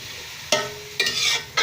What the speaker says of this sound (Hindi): इसको हम सिर्फ मिक्स करेंगे